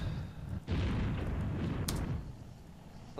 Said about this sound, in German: Und mein Bomber hat gerade gecrashed.